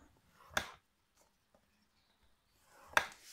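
A sheet of paper is folded and its crease pressed down by hand, heard as two close, crisp swishing rubs about two seconds apart, with faint light taps between them.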